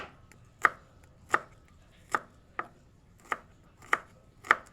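Garlic being chopped into cubes on a board: seven sharp, evenly spaced knife strikes, close and clear over near silence, with no talking.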